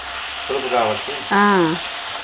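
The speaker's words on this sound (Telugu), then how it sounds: "ఇది కొంచెం సేపు బాగా ఫ్రై అయిపోవాలి" Raw mango pieces fry in a pan for mango rice, a constant hissing sizzle running underneath brief bits of a voice speaking.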